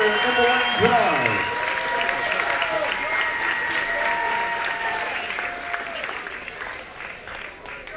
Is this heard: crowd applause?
yes